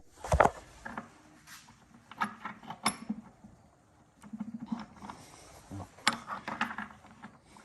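Hydraulic hose fittings being clicked into the single point connection on a John Deere 1025R compact tractor for a snowblower, giving close metallic clinks, snaps and rattles in several bursts.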